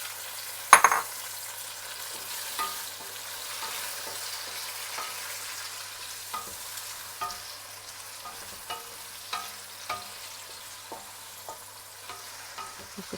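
Chopped garlic and ginger fry with onions in a pan for aloo biryani: a soft, steady sizzle broken by regular scraping stirs, one sharp clack near the start, close up with no talking.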